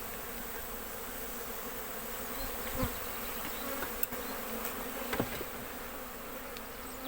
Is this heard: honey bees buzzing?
yes